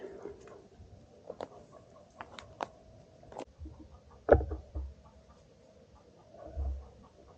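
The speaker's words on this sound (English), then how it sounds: "is there two roosters?" Two roosters cluck and chirp faintly in short, scattered bursts outdoors, with a few low thumps and rustles between calls.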